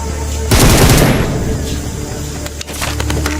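Loud burst of automatic gunfire in the BGMI battle royale game, a dense rapid volley lasting about half a second and then trailing off, followed by a few sharp isolated shots over a steady game background hum.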